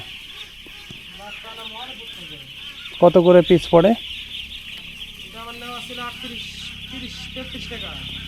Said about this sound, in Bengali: কতগুলো হাঁস আছে ভাই এখানে